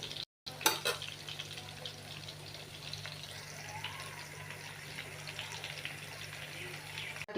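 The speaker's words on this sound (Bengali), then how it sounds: "তো বন্ধুরা আমি এই টিকাগুলো আস্তে আস্তে ভেজে নিব" Chicken tikka pieces frying slowly in a pan on low heat make a soft, steady sizzle throughout, with a brief clatter near the start and a low hum beneath.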